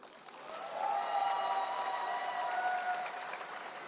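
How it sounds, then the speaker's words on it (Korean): Applause from a crowd at a party leadership candidate's joint campaign rally in Incheon, a fairly faint wash of clapping that swells after a moment and carries on under a sustained tonal hum, likely amplified feedback or cheering. "박수 치셔도 됩니다"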